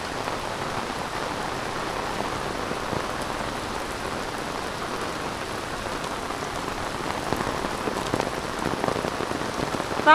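Steady heavy rain pours onto surfaces in a town street, a dense continuous hiss that swells slightly toward the end; no clear thunder stands out.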